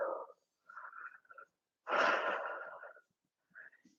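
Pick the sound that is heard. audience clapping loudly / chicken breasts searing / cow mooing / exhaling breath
exhaling breath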